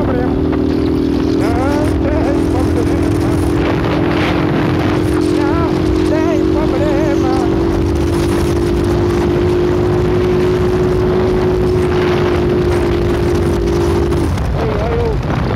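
A motorcycle ridden through the streets of Bauru accelerates with a loud, close engine drone that rises and holds steady for most of the stretch, then cuts off near the end, with wind noise throughout.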